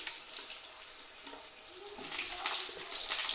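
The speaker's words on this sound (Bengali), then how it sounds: "আলুটা এক মিনিট একটু ভেজে নেব" Potatoes frying in oil with panch phoron, a soft steady sizzle with brief louder crackling bursts partway through, no talking.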